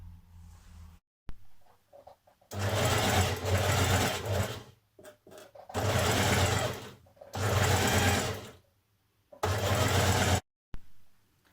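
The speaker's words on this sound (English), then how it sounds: "You're going to do this on both sides, on both pieces front and back, and stitch down here." A sewing machine stitches dress skirt panels in several bursts of loud, steady whirring, each lasting one to two seconds and separated by short pauses, heard up close without voices.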